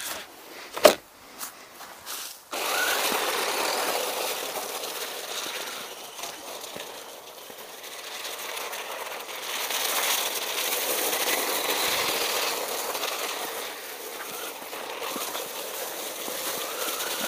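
A PXtoys Piranha 9200 1:12 scale 4WD RC car with a 540 brushed motor drives across sheet ice, its wheels spinning. A few clicks and knocks come first, then a steady, close whirring hiss runs on without a break.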